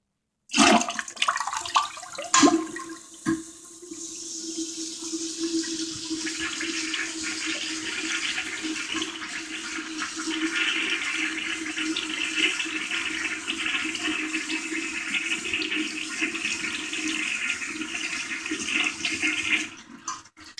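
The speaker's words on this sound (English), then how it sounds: "Here I'll do a final flush" A Kohler Pompton toilet flushes in one long, steady rush of water lasting nearly twenty seconds, opening with a few sharp clunks of the handle and mechanism, then a loud, even swirl and refill, heard close with no voices.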